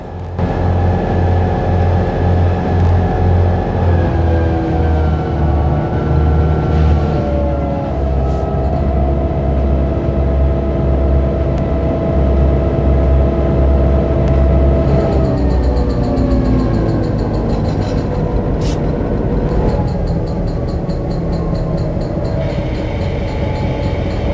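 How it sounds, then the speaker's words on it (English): A train pulled by three diesel locomotives arrives with a loud, continuous engine roar and rumble, its droning tones slowly shifting in pitch as it draws near, with no voices. "Very soon, the train came into sight with 3 diesels doing the job."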